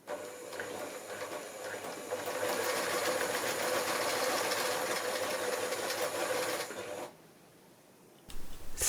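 A sewing machine stitches fabric at a steady, fast whirring rhythm for several seconds, then stops abruptly, leaving a quiet pause before a brief restart at the end.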